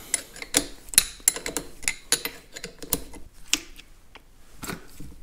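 Wrench clicks and metallic ratcheting as the distributor clamp bolts are loosened on a Farmall tractor, a series of sharp, close, irregular ticks and clanks with short pauses between.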